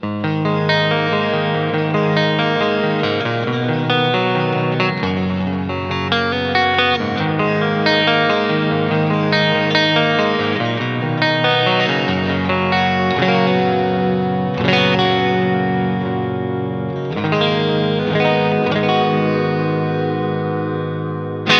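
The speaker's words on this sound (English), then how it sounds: "in the neck position, we're going to get the outer coil of the neck pickup," An electric guitar on the outer coil of its neck pickup plays a continuous riff with chords and single notes, its tone slightly distorted and washed with chorus, clear and unaccompanied.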